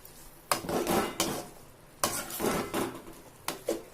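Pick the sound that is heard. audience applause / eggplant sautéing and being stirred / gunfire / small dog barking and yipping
eggplant sautéing and being stirred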